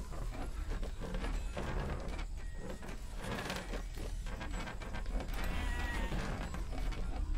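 Sheep bleat faintly in a video game over a dense, noisy background rumble, with scattered clicks and rustling throughout.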